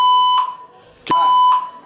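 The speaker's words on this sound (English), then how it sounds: "A fire alarm device has been activated." Building fire alarm sounding, two loud electronic beeping tones separated by a sharp burst, piercing and close, with no speech.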